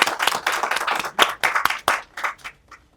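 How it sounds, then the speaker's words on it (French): A small audience at an evening gathering claps unevenly, with distinct hand claps in loose bursts that thin out and fade toward the end. "Est-ce que vous pouvez applaudir pour vous-même?"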